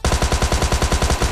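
Rapid automatic gunfire from a shooting video game: a steady burst of about ten evenly spaced, loud, punchy shots over under two seconds, with no voices.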